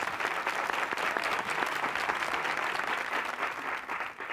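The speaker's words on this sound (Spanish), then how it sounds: "este aplauso para don José Luis" Studio audience applause on a Spanish television game show, dense and sustained clapping from a crowd that stays steady and fairly loud throughout.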